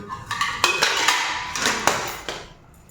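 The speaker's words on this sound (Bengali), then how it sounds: "এই দুটো প্লেট আর এইগুলো ঠিক প্লেট নয় এগুলো আর কি ঢাকুনি ঢাকনা দেওয়ার" Plates and lids being handled at home, giving a run of bright clinks and knocks of dishware with short clattering contacts, moderately close and without speech.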